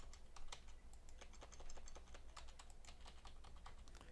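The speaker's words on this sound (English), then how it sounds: "right now, if I type in this form" Quiet, steady typing on a computer keyboard, a dense run of light key clicks continuing for several seconds with no voices.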